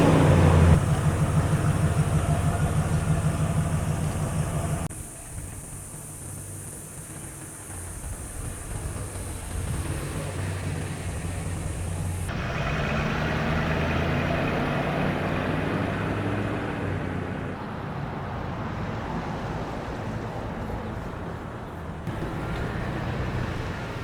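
A vehicle tows a trailer fitted with a MoTow rear wheel towing unit on a test ride, a continuous low road and engine rumble that shifts abruptly in tone a few times.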